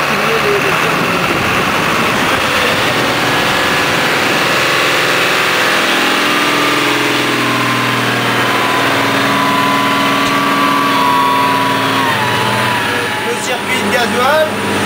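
A Case CS150 tractor engine runs loud and steady under load on a dynamometer, its pitch slowly sinking as the revs fall to find maximum torque, with a voice speaking over it at times.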